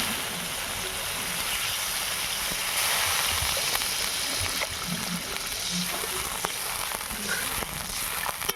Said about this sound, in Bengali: আমি এবারে পরিমাণ মতন জল দেবো।